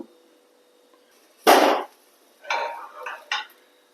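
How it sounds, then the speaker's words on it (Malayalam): A metal pressure cooker is set down on a stove with one sharp clank, followed by a few lighter metallic knocks and scrapes in an otherwise quiet kitchen. "കുക്കർ വെച്ച് കൊടുക്കുക."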